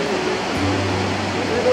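Continuous broadband rush of flowing river current at Devil's Bridge, steady and fairly loud throughout, with a low hum and faint voices underneath.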